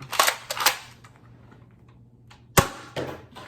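An Adventure Force Nexus Pro toy blaster fires Ultra darts: a quick cluster of sharp, close pops and clicks, then a pause before another crisp burst of shots, with no talking.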